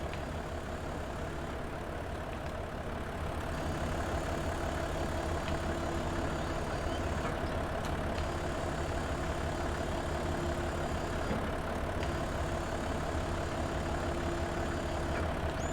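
A truck engine idles in Farming Simulator 22, a steady, even mechanical hum that holds at a constant level throughout with no voices over it.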